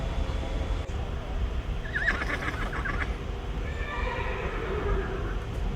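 An unsedated horse whinnies in two shrill, wavering bursts over a steady low background rumble, fairly close and clear.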